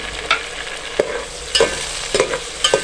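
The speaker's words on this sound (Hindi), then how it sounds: "तो इसको अच्छा सा भूनेंगे।" Masala for aloo matar pulao frying in a pan, a constant close sizzle broken by regular scraping taps of a spoon stirring, about one every half second.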